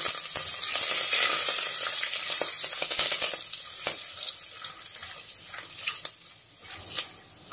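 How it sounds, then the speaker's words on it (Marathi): Peanuts fry in hot oil in a pan alongside whole spices, cumin and curry leaves, giving a steady, fairly loud sizzle that eases off slightly toward the end, broken by a few sharp spatula clinks near the close. "शेंगदाणे तेलात छान परतून घ्यायचे"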